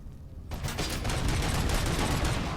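A turret in a video game opens fire after a brief quiet moment, unleashing a dense, loud, unbroken burst of rapid gunfire.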